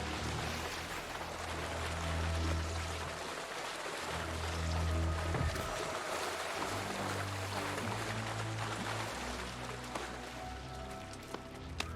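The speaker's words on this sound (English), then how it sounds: "It's in the bottom of the waterfall, so you just want to get your group, jump down there, loot the chest" A waterfall in a dungeon in the game New World: steady rushing water hiss fills the space as a continuous wash, with low rumbling game ambience underneath.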